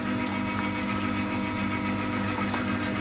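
An electric meat grinder runs steadily at home while meat and fat pieces are fed through to be minced, giving a loud, continuous motor drone with a constant mechanical whir and no pauses.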